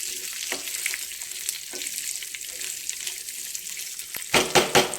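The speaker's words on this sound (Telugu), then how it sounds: "ఈ నువ్వులు కూడా కొంచెం వేగితే మనకి అయిపోయినట్టే." Sesame seeds roast in a pan for chutney, giving a close, dry, rustling crackle under repeated stirring, with a few louder scraping bursts near the end.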